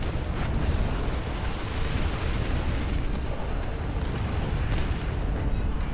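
Dense, continuous rumbling barrage of howitzer artillery explosions in a war video game, loud and sustained throughout with overlapping booms and no speech.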